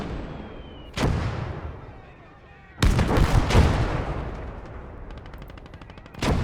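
In a Commonwealth Conquest war game featuring the Matilda tank, tank and artillery cannons fire loud booming shots, each followed by a long rumbling decay, with rattling bursts of gunfire between them.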